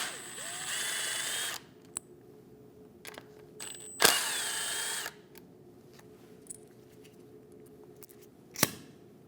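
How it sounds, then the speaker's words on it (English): A power tool with a 10mm socket driving out bolts on the AC compressor of a 2016 Scion iA, giving a few loud, close whirring bursts of a second or so, then sharp clicks and short tool noises in a quiet garage. "Using a 10mm socket, remove the bolts."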